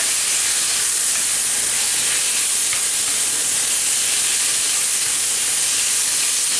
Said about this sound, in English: with all that grease coming out it will potentially splatter